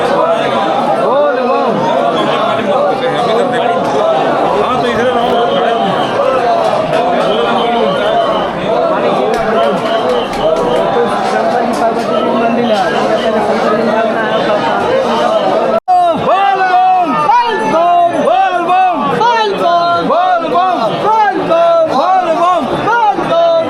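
A dense crowd of pilgrims at the Basukinath temple during the Kanwar pilgrimage, a steady near babble of many overlapping voices with chatter and calls throughout, growing clearer and more distinct in the last stretch.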